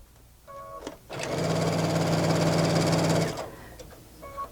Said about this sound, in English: we're going to sew right on that diagonal line